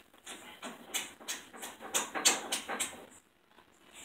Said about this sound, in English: He is an Australian Shepherd.